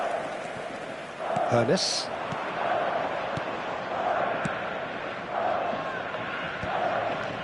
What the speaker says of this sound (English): but it certainly got the crowd going.